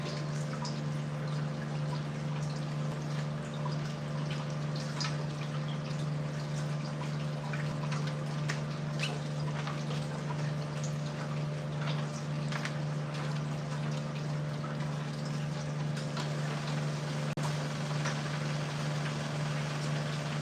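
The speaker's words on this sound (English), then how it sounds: "I'm gonna go get the jugs of water, and we're gonna fill this reservoir" Water is poured from plastic jugs into a garden bucket reservoir, giving a soft continuous trickle and splash over a steady low electrical hum.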